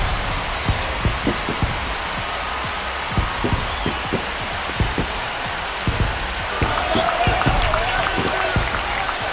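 A baseball stadium crowd in Baltimore cheers and claps after an Orioles home run against the Mariners, a dense steady roar with scattered sharp claps under a broadcaster's talk.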